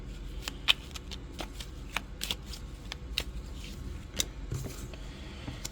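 Mystery oracle card deck being shuffled by hand, a series of crisp riffling and snapping bursts at an uneven rhythm, close and fairly quiet with no talking.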